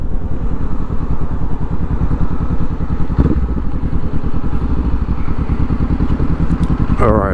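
Honda CB500X motorcycle engine during a U-turn into a gas station on an evening commute in Shanghai, a steady, close, pulsing parallel-twin drone at low revs that holds even throughout, with a brief higher sound near the end.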